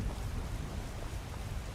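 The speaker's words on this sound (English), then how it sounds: "It's raining." Rain falls in the video game Skyrim as a steady, dense hiss with a low rumble underneath, even and continuous throughout, with no voices.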